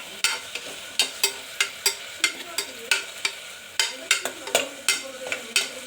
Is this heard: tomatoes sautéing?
yes